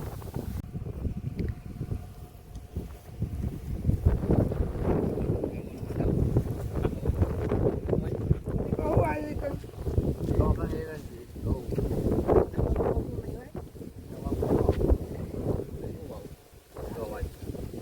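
Strong wind buffets the microphone in a continuous rumbling roar, with voices talking faintly beneath the gusts.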